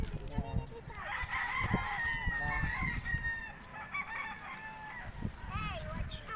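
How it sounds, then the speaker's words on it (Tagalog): Chickens and a rooster on a rural farm field, with repeated clucking and crowing calls close by over a busy, steady background of fowl noise. "Daming chicken dito."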